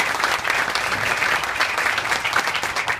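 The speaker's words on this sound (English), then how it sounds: "You can applaud him because he's got a lot of work ahead of him" An audience bursts into steady, dense applause for council president Luis Quintana at a ShopRite of Newark grand opening, with loud, continuous clapping sustained throughout without pause.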